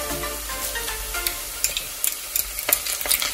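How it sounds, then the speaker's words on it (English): Browned onions and ginger garlic paste fry in a pan for a sardine curry, a close, bright sizzle broken by sharp crackles and spatula scrapes that grow busier toward the end. "And we're going to cook this until the raw smell of the ginger garlic paste disappears"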